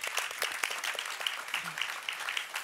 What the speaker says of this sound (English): a big applause to this panel